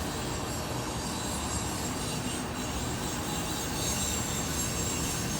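A long northbound CSX ethanol freight train with CP locomotives rolls past close by, a continuous heavy rumble of wagons with faint wheel squeal throughout and no talk.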